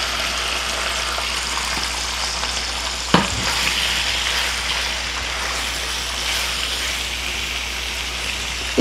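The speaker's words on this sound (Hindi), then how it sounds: "इसको हम लोग जो है वो तेज़ आंच के ऊपर फ्राई करेंगे" Lamb liver (kaleji) frying on high flame gives a loud, steady, dense sizzle throughout, with a sharp clatter near the middle and another at the end.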